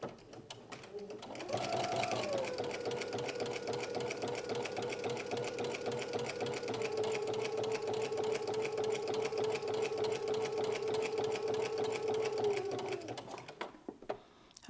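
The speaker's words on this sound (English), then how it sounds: "make sure that your machine is set to the longest stitch on your machine and no back stitch" A domestic sewing machine runs a long basting stitch with no backstitch, a steady motorized whir with a rapid needle rhythm for about ten seconds before stopping, close by.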